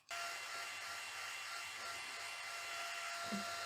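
A hair dryer blows on wet eyebrow product during a makeup routine, switching on abruptly and then holding a steady, even whirring hiss at close range with no talk.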